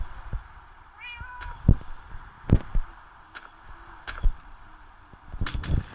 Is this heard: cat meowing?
yes